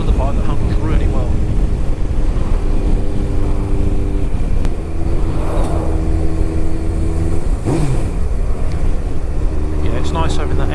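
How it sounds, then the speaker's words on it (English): Honda CBF 1000 motorcycle engine and exhaust running steadily while riding, a continuous loud rasp with slight rises and dips in pitch, carrying on beneath wind noise throughout. "It's nice having that extra bit of rasp from the exhaust."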